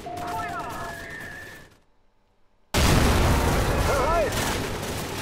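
Gunfire and grenade explosions in Call of Duty 4: a burst of shots, a short near-silent gap, then a sudden loud blast followed by sustained rumbling fire, with a voice speaking over parts of it.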